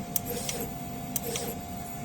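A DTF printer runs a nozzle check, its print head carriage whirring steadily with a constant electrical hum and a few faint clicks, with no one speaking.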